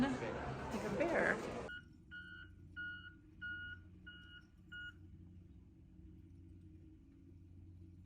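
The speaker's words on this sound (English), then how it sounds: "First I thought it was someone's alarm next door to us, but it's the snow plow plowing the parking lot." Snow plow clearing a parking lot in the early morning, giving five evenly spaced reversing beeps after a burst of loud scraping noise, with a low engine rumble continuing underneath.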